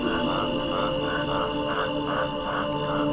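Continuous chorus of frogs croaking in pulsing, rhythmic waves, steady and fairly loud with no voices.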